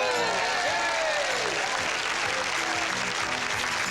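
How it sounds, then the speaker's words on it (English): A studio audience at a 1989 television variety show bursts into sustained, loud applause for a yo-yo trick, steady clapping with a few whoops rising over it. "Let's hear that yo applause"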